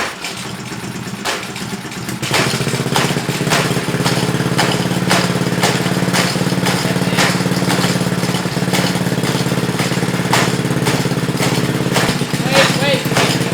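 A small gas engine on a homemade Corvette-styled Power Wheels kart runs loud and steady after a brief start, with a rough, buzzing idle that has a repeating knock throughout. A voice talks briefly at the start.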